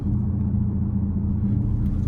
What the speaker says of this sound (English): I think my supercharged whines so much.